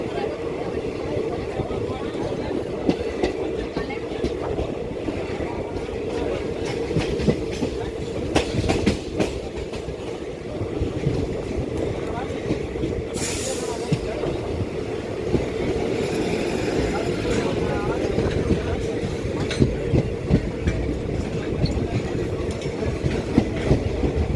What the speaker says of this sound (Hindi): अभी हम साबरमती रेलवे स्टेशन के पहले यहाँ के कोच एंड वैगन डिपो से जो है वो गुजर रहे हैं।